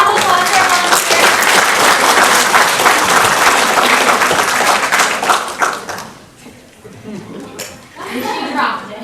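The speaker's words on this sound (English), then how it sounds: "Let's have a round of applause for our volunteers." An audience at a university physics outreach show claps for the volunteers. The applause is loud and dense for about six seconds, then fades into scattered claps and murmuring chatter with children's voices.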